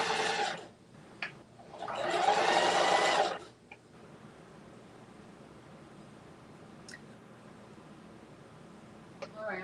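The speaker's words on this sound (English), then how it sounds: "I'll finish this one and sew the other one." A sewing machine runs in two short bursts of stitching through fabric, a close, buzzing whir, followed by a quiet stretch with faint handling clicks.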